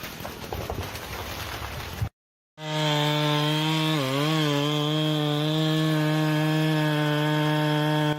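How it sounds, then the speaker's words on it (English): A chainsaw cuts into a large tree trunk, first with a noisy rasping burst, then after a brief silence a loud, steady high-pitched engine whine that dips once in pitch mid-cut and holds close and continuous. "The chainsaw screeches like a mechanical beast unleashed."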